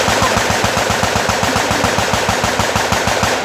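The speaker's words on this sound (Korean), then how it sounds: "애들이 자기네 맘대로 막 총을 쏘니까" Guns fire at an outdoor shooting range in a long, rapid, evenly spaced burst of loud, close gunshots that run without a break, with no voices.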